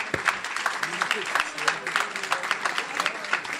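An audience at a business breakfast applauds its business chair, with dense, steady clapping and a murmur of voices under it throughout.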